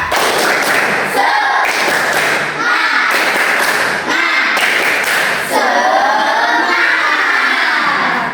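A primary school class claps in a fast, repeated rhythmic pattern, loud and close, with children's voices chanting along between bursts.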